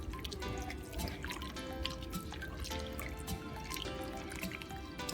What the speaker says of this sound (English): I'm going to add another cup of milk.